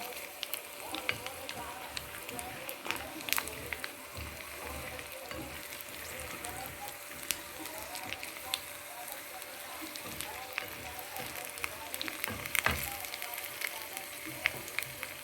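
Crushed garlic cloves and mustard seeds frying in oil for a yam chutney, a continuous close crackle and sizzle with scattered pops and spatters throughout.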